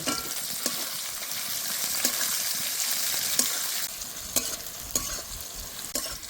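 Chopped onions and tomatoes frying in a pan for a potol chingri curry: a loud, continuous, close sizzling hiss broken by sharp clicks and knocks of stirring.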